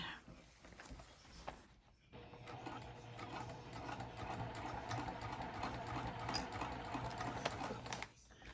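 A sewing machine stitches a zipper pouch, running in a steady rapid mechanical chatter for several seconds after a short pause, close and fairly quiet.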